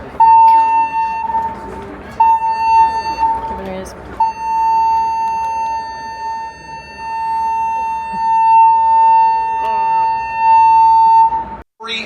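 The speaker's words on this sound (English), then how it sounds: "they do a loud siren, don't they? A loud, like the sound, the safety alarm, it is quite loud." A loud, steady cruise ship safety alarm siren aboard the Disney Fantasy sounds as one sustained tone with brief breaks, continuing through most of the clip under nearby voices and background bustle.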